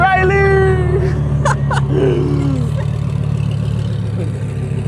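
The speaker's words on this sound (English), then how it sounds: "I love how clear you can hear the turbos on this thing." Engine of a twin-turbo RA car, idling and running steadily under continuous talk, with a rising whine at the start and brief louder bursts in the middle.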